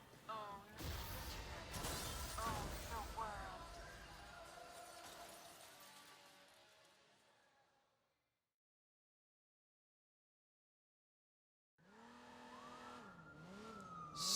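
A car racing through the streets of San Francisco in a video game while police give chase: engine roar, crashes and shattering glass with wailing sirens, then silence before a siren and engine return.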